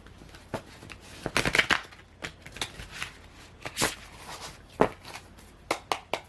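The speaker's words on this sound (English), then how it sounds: "Shuffle the Gilded Tarot next." Thin Gilded Tarot cards being shuffled by hand, a run of crisp riffling bursts and soft slaps in uneven clusters, close and fairly quiet, with no talking over them.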